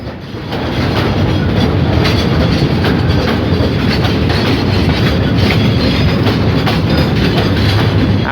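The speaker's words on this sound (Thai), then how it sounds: "ได้ยินเสียงล้อกระทบรางนะ" Steady, loud rumble of an express train passing close by at a road level crossing, its wheels clacking repeatedly over rail joints in a continuous rhythm.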